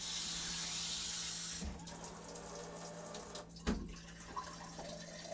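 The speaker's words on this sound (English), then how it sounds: "And I'm going to fill this up with" Tap water running steadily into a container at a kitchen sink, a broad rushing hiss for the first second and a half, then quieter trickling with a few small knocks and clinks.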